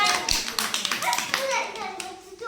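Several hand claps ring out over a child's sing-song chanting, the claps falling loosely in time with the rhythm.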